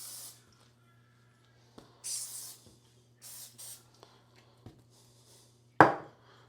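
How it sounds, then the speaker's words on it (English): Cooking spray hissing onto bagel dough in a kitchen, several short close bursts of spray separated by quiet gaps, ending with a sharp knock and a brief rustle. "Cooking spray on it."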